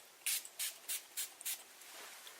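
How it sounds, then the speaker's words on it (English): An activator is sprayed as a fine mist, heard as about five short, faint, airy spritzes in quick succession, close by in a quiet room. "then we spray the activator one more time. Okay, we'll feel a cool mist."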